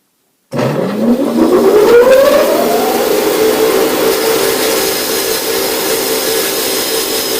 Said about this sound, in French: je vais pouvoir découper ça à la scie